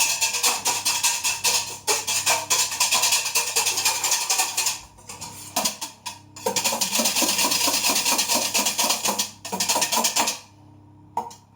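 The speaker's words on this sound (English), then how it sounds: "we're basically going to whisk, whisk, whisk. I've only got a balloon whisk, a hand whisk" Continuous brisk beating of eggs with a balloon whisk in a dish, a fast scraping rattle with a few short pauses, close and loud, no talking.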